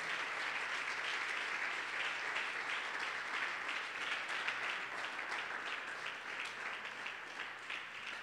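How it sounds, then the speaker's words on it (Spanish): Steady, dense applause from a church congregation during a Sunday service, filling the room evenly at a moderate distance for several seconds without a break. "Un aplauso para el que vive."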